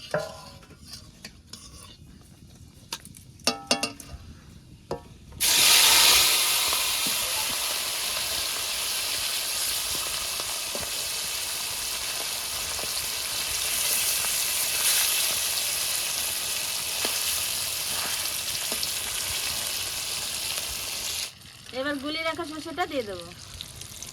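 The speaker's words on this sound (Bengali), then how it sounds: "মাছটা মাখিয়ে পাঁচ মিনিট ঢাকা দিয়ে রেখেছিলাম এখন তেলের উপরে দিয়ে দেবো" Marinated hilsa fish pieces, rubbed with black cumin for a mustard hilsa dish, go into hot oil in an uncovered pan. A loud, steady roaring sizzle lasts about fifteen seconds, with utensil clinks and talk before it and a voice after.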